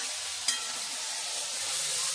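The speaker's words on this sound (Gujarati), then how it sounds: "અહીંયા વઘાર કરી નાખ્યો" Spices are tempered in hot oil for a semolina dish, giving a continuous close sizzle with a sharp crackle near the start, steady and fairly loud with no speech.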